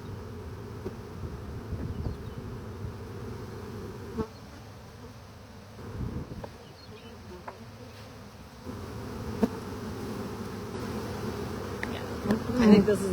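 Dense buzzing of a huge honeybee swarm in spring, a continuous droning hum that swells and dips, with a few louder passes close by.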